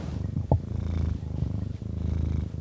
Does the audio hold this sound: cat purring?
yes